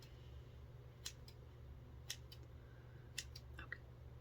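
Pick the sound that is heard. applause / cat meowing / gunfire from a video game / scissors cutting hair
scissors cutting hair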